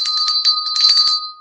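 A small bell is rung briskly and repeatedly for about a second, giving bright, ringing strikes up close before a short fading ring.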